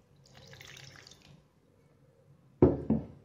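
Water poured into dough for msemen-style pastry: a soft trickling pour for about a second, a quiet pause, then two close, louder splashy pours.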